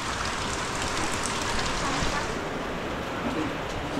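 A sudden downpour at Bukana, a thick continuous roar of heavy rain beating down without pause, loud and even throughout.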